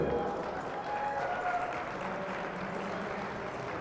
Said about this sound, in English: Please, a round of applause for your number one qualifier, Brady Ellison.